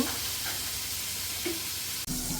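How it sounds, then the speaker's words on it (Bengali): Oil sizzles steadily in a pan as fish pieces fry, a continuous close hiss with a short break near the end before the sizzling resumes, and no voices. "তেলটা গরম হয়ে গেছে এখন মাছগুলো দিয়ে নিব"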